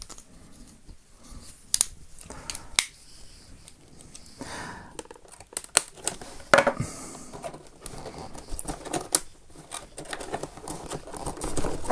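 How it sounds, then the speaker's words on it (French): Sharp scissor snips cutting into plastic toy packaging for a Boglins King Drool 2021 first edition, irregular close cuts with rustling plastic between them, no talking. "une bonne paire de ciseaux est conseillée"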